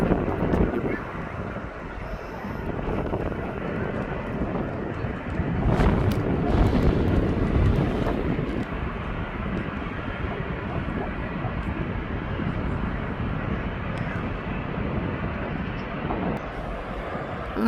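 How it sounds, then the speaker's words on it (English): An aircraft passes overhead at Birmingham International Airport, a broad, rumbling roar that swells and lingers for many seconds, mixed with wind buffeting on the microphone. "Once this aircraft is gone over"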